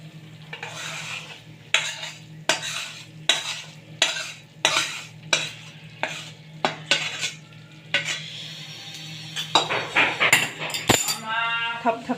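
Chocolate sukhadi mixture being scraped and transferred from a pan into a ghee-greased dish, with a series of regular metallic scraping and clinking strokes of a spoon against the vessel, close and fairly loud over a steady low hum.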